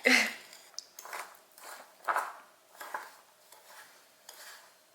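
Batter of sugar and other banana bread ingredients being beaten by hand in a bowl, with repeated soft scraping and clinking strokes at an uneven rhythm, fairly quiet and close.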